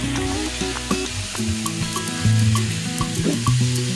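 Green chillies and onions fry loudly in a pan for a mixed prawn bhaji, a strong crackling sizzle with clattering spatula scrapes and metallic knocks spread throughout, and no speech.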